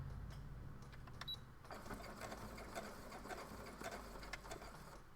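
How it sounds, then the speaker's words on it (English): A sewing machine back stitches the seam of a squishy fabric project bag, a steady close whirring run of rapid stitches that pauses briefly before starting up again. "So I'll just take those last few stitches, not steps, right up to that place where we made the seam."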